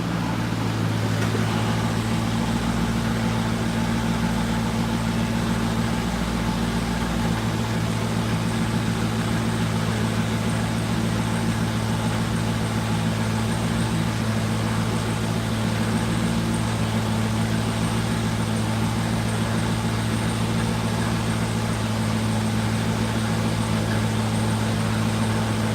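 A car engine and exhaust run steadily on a dyno at a dyno day, a loud continuous drone with strong low harmonics throughout, its pitch shifting slightly early on, with no talking.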